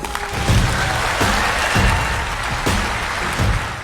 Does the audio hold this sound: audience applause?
yes